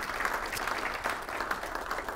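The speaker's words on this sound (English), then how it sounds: "Let's give city staff a big round of applause." Audience clapping for city staff at a district breakfast held by a councilman, a continuous, fairly loud patter of many hands that stays even throughout the short clip.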